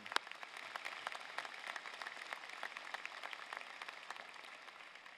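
Applause for the salutatorian at a 2018 high school commencement ceremony, a steady spread of many hands clapping, fairly faint and distant, with a few sharper nearby claps and no talk.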